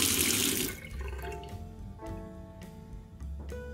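Tap water runs into a hotel room sink, a bright rushing splash at the start that cuts off, followed by quieter dripping and small clinks and knocks nearby.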